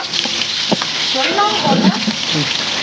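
Onions tipped into hot oil with cinnamon and cloves for chicken biryani, crackling in a steady sizzle with scattered pops and a voice talking over it.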